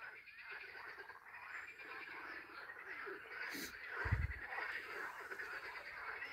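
Frogs croaking at a lake in Stara Zagora, a dense continuous chorus of many calls blending together at a steady level, with a brief low thump partway through.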